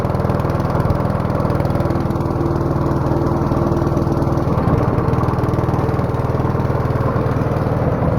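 A Troy-Bilt 6 hp snowblower engine runs on choke in below-zero cold, a loud, close, steady chugging drone that holds through the whole stretch with no talking.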